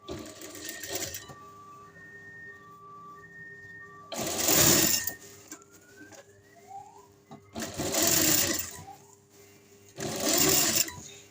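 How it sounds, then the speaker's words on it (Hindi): A sewing machine stitches a fabric neckline, running in four close, steady bursts separated by short pauses with a faint background hum. "उसके ऊपर हमने इसकी सिलाई लगानी है।"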